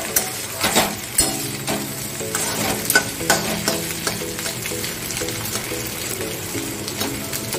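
Potato bhujiya fries in a pan under repeated stirring, a loud close sizzle broken by irregular scrapes and clinks of the spoon against the pan, with no talking.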